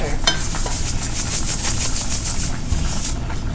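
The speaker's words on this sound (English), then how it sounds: "Now I'm going to stir it around" A pot of macaroni and cheese gets stirred, loud close rhythmic scraping and squelching strokes repeating quickly for a few seconds, then slowing, with no voices over it.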